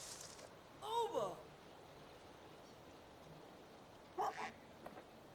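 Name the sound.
dog barking in a duck hunting video game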